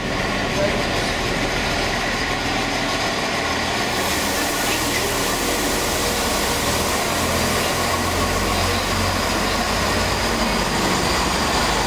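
A Biggesee Express train moves along the line, giving a loud, continuous rumble of wheels and carriages close by, with faint voices in the background.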